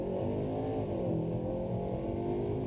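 A Skoda Superb launches hard from a launch control start, its engine droning loud and low with a rising pitch as it accelerates, heard steadily from inside the car without talk.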